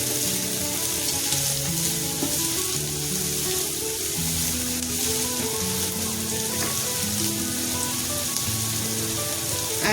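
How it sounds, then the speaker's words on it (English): Onions frying in a pot for beef stew, a steady bright sizzle with crackling bubbles continuing throughout, no speech. "now you've got to cook the onions till they turn soft"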